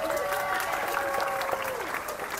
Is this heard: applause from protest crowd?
yes